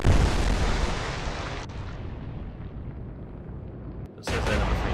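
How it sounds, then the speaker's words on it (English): Naval guns fire shells in the Atlantic Fleet video game, a heavy booming blast at the start that decays into a long rumbling tail, followed by another sudden loud burst near the end. "They're hitting us with 14-inch guns, shells."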